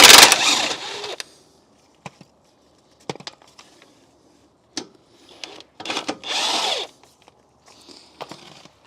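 A power tool unbolts the wishbone on an R56 Mini Cooper S during engine removal, giving several short, sharp bursts of whirring and rattling, close by, separated by near-silent pauses and light clanks.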